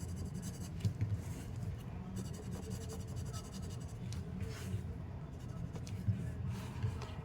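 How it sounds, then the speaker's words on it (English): A graphite pencil shades a Zentangle drawing with soft, close scratchy strokes in a quiet, irregular rhythm, continuous and faint. "I'm going to add some graphite on one side of the petal."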